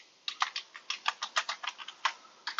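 A password tapped out on a computer keyboard during a network setup, with quick irregular clicking keystrokes, close and fairly quiet, several short bursts with brief pauses and no talking.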